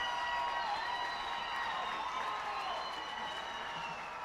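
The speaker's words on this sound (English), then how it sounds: "Crowd going wild." A minor-league baseball crowd at a Reading Fightin Phils home game against the New Hampshire Fisher Cats cheers and claps after a triple, a sustained roar with whistles and shouts heard from within the stands.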